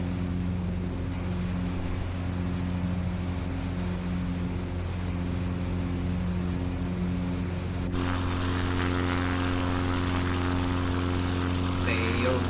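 A CubCrafters NX Cub propeller plane in flight over New Zealand makes a loud, steady engine drone with a propeller hum that never lets up, shifting in tone partway through.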